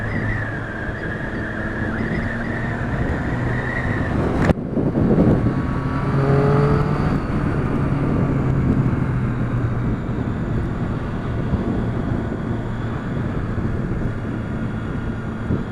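A Triumph Street Triple 675 motorcycle engine pulling in third gear: a steady rising drone mixed with strong wind rush, with a brief loud buffet as the engine note shifts and continues.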